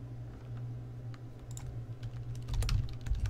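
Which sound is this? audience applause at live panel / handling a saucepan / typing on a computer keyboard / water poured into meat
typing on a computer keyboard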